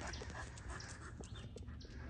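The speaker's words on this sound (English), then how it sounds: "he's a good dog" A pet dog at a backyard pool gives soft whimpers and quick panting breaths close by, faint and continuous amid light outdoor background noise.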